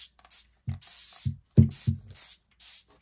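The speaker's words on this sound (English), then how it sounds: "Let's spray this one more time." A handheld spray bottle misting fabric on a craft surface: several short, hissy spritzes in an irregular rhythm, close and fairly loud, with brief pauses between bursts and no talking.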